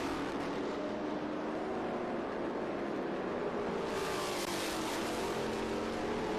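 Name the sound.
Trans Am race car engine, Challenger, racing at COTA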